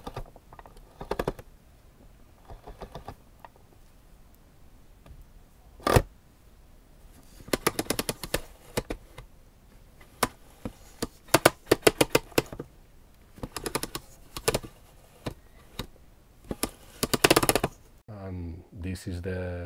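A Densha de GO Type 1 train controller handle is worked by hand, giving close, sharp plastic clicks and clacks in irregular bursts and quick runs with quiet gaps between them.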